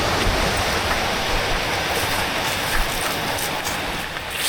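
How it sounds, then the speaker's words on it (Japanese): Loud, steady roar of a waterfall rushing beside a narrow, railless footbridge on a mountain trail, a dense broadband wash filling the whole clip without letting up. "滝の音がすごいのよ。"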